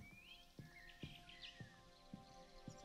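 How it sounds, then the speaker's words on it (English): Birds chirp outdoors in the video game Tin Hearts: light, scattered tweets over steady background music, with soft periodic thumps underneath. "I can hear birds"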